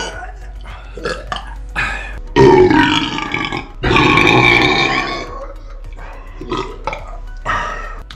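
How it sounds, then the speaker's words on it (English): Two long, loud, throaty burps after drinking protein powder stand out among shorter grunting sounds, close to the listener. "I literally just keep burping up protein powder"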